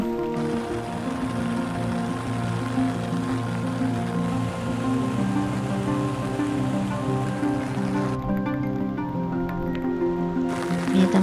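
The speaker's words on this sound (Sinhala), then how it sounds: "දැන් ඔන්න ටිකක් වැස්ස තද වේගෙන එනවා" Rain grows heavier along the Horton Plains trail toward World's End, a steady wash of drops on foliage and ground, with a sustained tonal hum running beneath it throughout.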